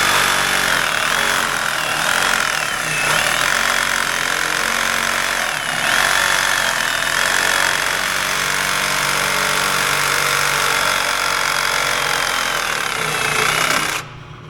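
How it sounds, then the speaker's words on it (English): A lathe runs while a boring bar cuts a hole in a John Deere 755K crawler track loader undercarriage part, giving a loud, steady grinding hum with faint chatter throughout, stopping abruptly near the end. "Turn the lathe on."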